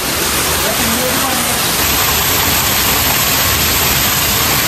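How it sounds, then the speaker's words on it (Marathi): Water falls steadily onto a stone Shiva linga inside a dark cave temple near Kolhapur, a dense continuous splashing rush that fills the whole stretch without a break. "तिथं आत पाणी पडा लागले."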